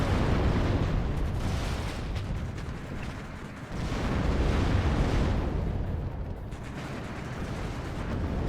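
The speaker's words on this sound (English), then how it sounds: "You got some heavy fire there too." Heavy fire and explosions in the WARNO strategy game: a dense, continuous roar of battle with blasts swelling and fading in waves, loud and unbroken, with no voices.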